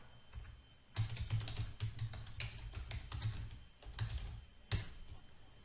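A computer keyboard clatters with quick, uneven keystrokes while a sign-up form is filled in, steady close typing with occasional heavier taps and short pauses.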